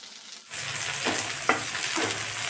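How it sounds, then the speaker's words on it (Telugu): Sweet corn kernels dropped into hot oil in a pan burst into a bright, steady sizzle after a quiet start, with a few small pops and crackles rising above the frying hiss. "ఆయిల్ వేడైన తర్వాత ఇలా కొన్ని కార్న్ తీసుకుని విడివిడిగా ఇలా"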